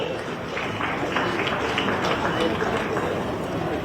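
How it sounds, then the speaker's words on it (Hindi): Applause at an official appointment ceremony, a steady dense patter of clapping throughout with a voice faintly underneath. "तालियां होती रहे"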